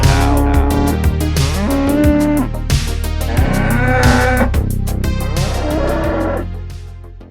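A cow moos loudly and repeatedly at close range, with long, drawn-out lowing calls that overlap one another.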